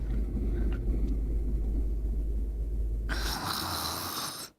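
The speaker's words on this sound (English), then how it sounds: "my goodness, I'm snoring" Deep, rumbling snoring from a person, a low rough drone that continues steadily for about three seconds before giving way to a brighter rustling noise and then cutting off, no talk.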